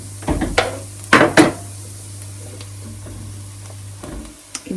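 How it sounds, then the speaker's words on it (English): Mushrooms tipped into a hot pan for a mushroom stroganoff, a few sharp clattering scrapes and knocks of pan and utensil over a soft ongoing sizzle, fairly close, with no talking. "In go the mushrooms."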